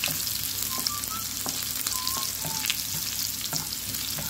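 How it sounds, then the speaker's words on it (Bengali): Chopped garlic, a whole dried chili and cumin frying in hot oil in a frying pan, giving a dense, steady sizzle with sharp pops and crackles scattered throughout. "ফ্রাই প্যানে তেল গরম করে 4টে রসুন কোয়া কুচি করে দিলাম।"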